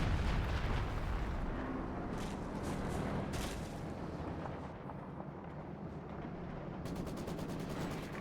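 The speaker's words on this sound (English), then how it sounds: "howitzer barrage" ML-20 howitzer barrage in Company of Heroes 2, a continuous rumble of booming shell impacts and battle noise, fairly quiet and sustained throughout.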